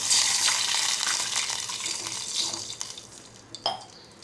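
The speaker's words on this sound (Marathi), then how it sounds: "तर आता आपण पाणी घालणार आहोत" Water pours steadily into a pan of fried onions with a hissing rush that gradually eases, followed by a couple of light clinks near the end.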